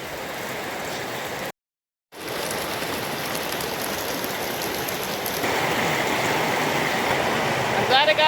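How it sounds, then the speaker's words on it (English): Heavy rain pours down steadily outdoors near a mountainside home, a dense continuous hiss that briefly drops out, then swells louder and closer toward the end. "it's really raining now"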